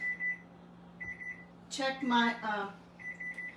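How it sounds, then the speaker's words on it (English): A kitchen timer buzzer sounds in bursts of steady electronic tone while dessert pizza bakes: one near the start, another about a second later, and a third at the end. A person talks briefly between them. "my buzzer's going off"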